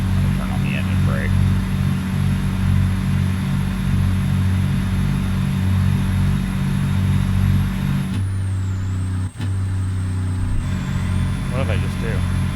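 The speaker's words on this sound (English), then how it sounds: "Turn on the engine brake." Heavy truck engine from American Truck Simulator, a Freightliner FLD with a CAT 3406B, drones loud and close with a rhythmic pulsing exhaust note, shifting character near the end as the engine brake engages.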